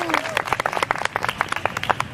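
A concert audience at National Taiwan University claps, with distinct, closely spaced hand claps rising into sparse applause, with some talk mixed in.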